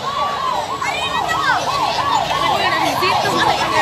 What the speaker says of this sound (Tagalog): gani nigawas na ning fire truck